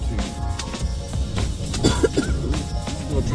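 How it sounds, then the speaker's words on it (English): Several short coughs and throat-clearing sounds from a dog, close by, over a steady background rumble. "You might hear some coughing."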